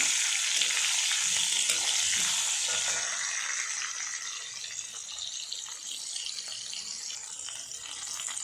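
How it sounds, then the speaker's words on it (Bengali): Potatoes frying in hot oil with salt and turmeric, a close, continuous bright sizzle with faint stirring, easing slightly in loudness partway through. "দিয়ে ভালো করে ভাজবো। আলুটা লাল করে ভেজে নেব।"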